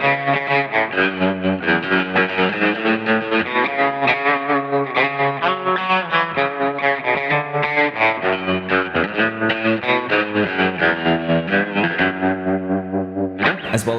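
Electric guitar through Fathom reverb and Tidewater pedals in a spaghetti western style, a continuous picked melody with lush reverb and shimmering modulation, loud and steady with no talking.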